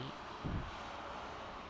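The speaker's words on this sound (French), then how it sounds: "Ah, il y en a un qui se pose, tiens." An Airbus airliner in airline livery lands in Microsoft Flight Simulator, giving a steady, even drone of engine and rushing air that holds at a moderate level throughout, with a slightly stronger low swell near the start.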